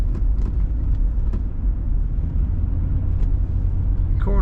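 A burgundy 1996 Cadillac Fleetwood Brougham with a column-shift automatic cruises along, giving a steady, low cabin rumble with faint road noise throughout and no talking.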